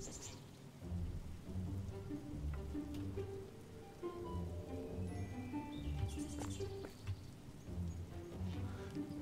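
Steady rain in the Roblox game Oaklands, a continuous hiss with low rumbles like thunder, heard alongside in-game music and scattered tones throughout.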